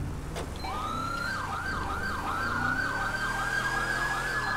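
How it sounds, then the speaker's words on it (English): A wailing emergency vehicle siren in a roleplay video game cycles steadily up and down in pitch, loud and continuous over a low rumbling truck engine. "My siren sounds a lot louder."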